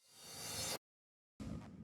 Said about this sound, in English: I've got this reverse crash and this reverse kind of guitar chunk here.